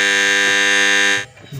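China-made washing machine motor with its belt on, humming loudly but not turning, a steady buzzing drone held for about a second before it cuts off abruptly.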